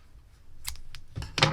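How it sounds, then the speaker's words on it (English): Scissors snip through crochet yarn with two or three quick, close cuts over a quiet background. "we're going to cut our yarn"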